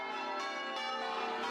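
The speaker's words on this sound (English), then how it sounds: "Church bells rang out in panic." Church bells ring out continuously, a dense, shimmering wash of overlapping metallic tones with fresh strikes at regular intervals, moderately quiet and with no voices.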